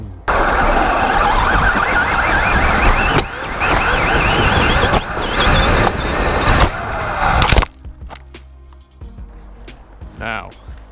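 Traxxas Rustler VXL radio-controlled car running at full throttle, a loud, close, high-pitched whining motor with surging bursts for several seconds that cuts off abruptly, followed by quieter background sounds.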